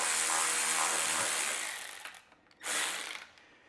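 A Craftsman lawn tractor engine's bolts are loosened with a power tool, giving two loud, close whirring ratchety bursts separated by a short pause.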